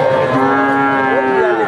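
A young heifer calf at a cattle market gives one long, loud, steady moo close by, alone and without talk.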